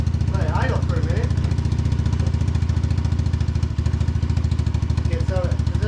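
A Powersportsmax Amazon Hawk 125 dirt bike engine idles at half choke, a steady, loud, fast-pulsing putter that runs unbroken throughout, with a voice briefly speaking over it.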